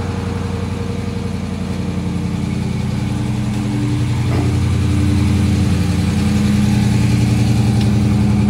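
A car's engine idles steadily after a remote start, a loud, continuous low rumble from the exhaust that holds even with a slight swell toward the end.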